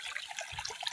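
Irrigation water runs through a mulched farm bed, a soft, close trickle with small bubbling splashes and no talk.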